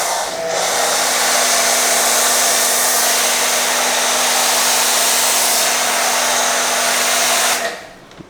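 A snow foam sprayer blasts car shampoo onto a car with a loud, steady rushing hiss and a faint whine. The sound runs continuously for about seven seconds, then stops.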